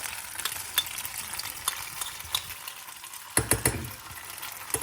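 Boiled pasta is stirred into white sauce in a pan, making soft scraping and sloshing stirs with faint sizzling, quiet and close, and a brief cluster of louder clinks and scrapes near the end.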